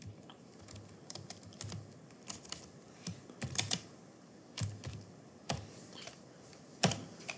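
Quiet computer keyboard typing in irregular bursts of clicks, close up, with short pauses between flurries of keystrokes, naming a toolbar in CorelDRAW.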